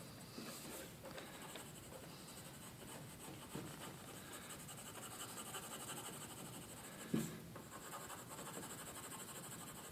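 Soft, continuous scratchy rubbing of colored pencil on paper, close and fairly quiet, with a faint tap partway through.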